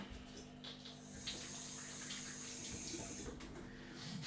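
Kitchen tap running into a sink in a cheap home kitchen, a steady close hiss of flowing water under a low hum, with no talk.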